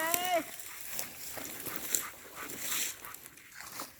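During a Georgia quail hunt, a hunting dog gives a brief high whimper at the start, then comes rustling movement and footsteps through cover, all at low volume.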